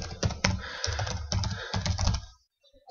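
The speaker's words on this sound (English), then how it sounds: "So let's type that in, all as one word." Fingers type rapidly on a computer keyboard, a close, dense patter of plastic key clicks lasting about two seconds before stopping into near silence.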